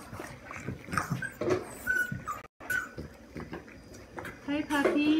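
Puppies give thin, high-pitched whimpers and whines in short bursts, partly buried under a person talking to them nearby.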